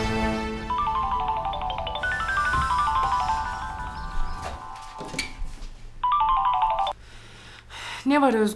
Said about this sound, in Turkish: Hadi Mine aç şu telefonu ya.